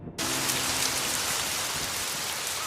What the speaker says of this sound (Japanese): 雨だね。